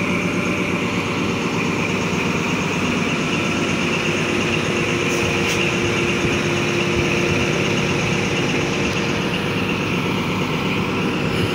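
XPT diesel passenger train power car idling at a platform, a steady loud rumbling drone with tonal hum, continuous and close with no talking.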